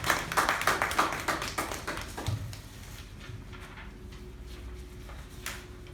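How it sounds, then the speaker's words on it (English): Members at a club meeting applaud a speaker and evaluator, a burst of clapping that is loud for about two seconds and then thins out to a few scattered claps in a quiet room. "Let us give a huge round of applause for the speaker and the evaluator"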